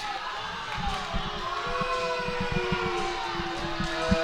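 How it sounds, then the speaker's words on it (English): A Walla Walla crowd at a women's college basketball championship game reacts with discontent, a loud jumble of shouts and jeers plus a sustained whistle-like tone over a constant murmur. "Walla Walla crowd not happy at all"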